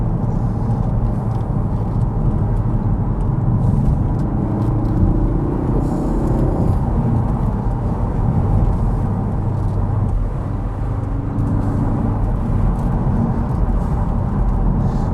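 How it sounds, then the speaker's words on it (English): A Ford Focus RS Mk3 hot hatch accelerating hard in second gear on a motorway, its engine a loud, steady, continuous roar with deep rumble and road noise throughout, no voices. "So second gear, let's leave a little bit of a gap. See what this RS can do."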